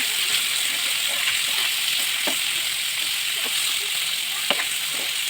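Kalbaush fish fries in a hot pan as pieces are turned over, giving a constant loud hiss with a few sharp crackles and pops.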